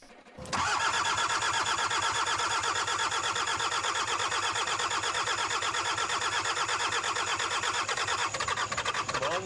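A Toyota Hilux truck engine in a video game cranks briefly and catches, then settles into a steady, loud, close idle that holds for several seconds before a slight change near the end.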